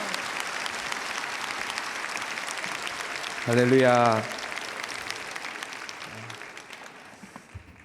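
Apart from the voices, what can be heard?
church congregation applauding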